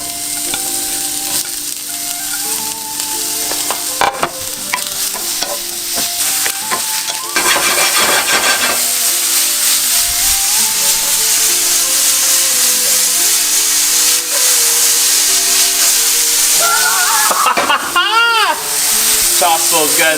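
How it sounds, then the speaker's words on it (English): Mushrooms sauté and sizzle loudly in a hot cast iron pan for a ramen dish, with steady frying hiss broken by stirring scrapes and clatters as the pan is tossed. "Now we're gonna saute our mushrooms real quick. Get a cast iron pan going."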